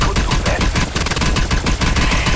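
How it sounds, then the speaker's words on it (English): Rapid automatic gunfire in the zombie game Outbreak, a dense continuous burst of loud overlapping shots filling the whole moment with no pauses. "Ring of fire, start shooting at the middle."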